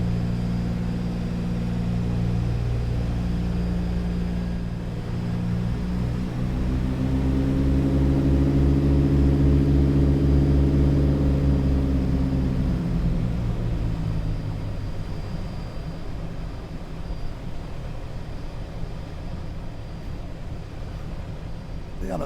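A 1944 DC-3 Dakota rumbles through its landing approach from inside the cockpit, the twin radial engines' loud low drone swelling and then easing back as power drops near the end.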